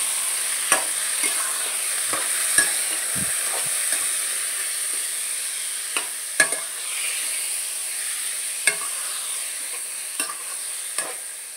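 A spoon stirs and mixes chicken in a pan over a steady sizzling hiss, with sharp scraping knocks against the pan at irregular intervals.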